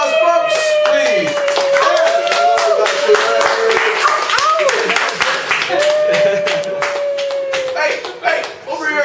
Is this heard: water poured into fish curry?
no